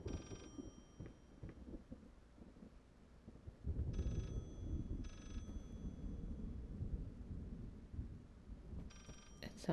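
A telephone rings in the horror game Layers of Fear in short, repeated bursts: one at the start, a pair in the middle and another at the end, over a low, rumbling ambient drone.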